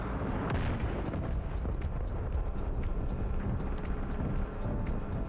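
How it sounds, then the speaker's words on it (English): Rapid gunfire in the DCS World combat flight sim crackles as a dense burst of sharp, evenly spaced shots over a steady low engine rumble, moderately loud throughout. "Gunfire"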